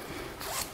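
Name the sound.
zipper on a bathing suit being pulled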